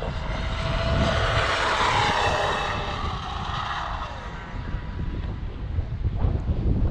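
An Arrma Kraton 8s RC car with a 23-tooth pinion runs at full throttle, a loud whining motor rising and then fading as it passes, with strong wind buffeting on the microphone.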